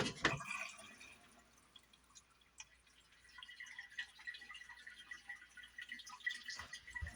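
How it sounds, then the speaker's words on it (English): Water trickling and dripping into a toilet tank on gravity feed at an off-grid Sierra Blanca, Texas property, a faint steady filling sound with scattered drips, heard alone. "That's gravity feed on the toilet."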